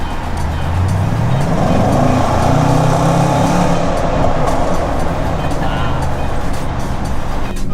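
Range Rover Sport SVR SUV, 2019 model, on a test drive, its engine rising in a loud sustained rev from inside the cabin with a deep rumble and road noise, no talk over it.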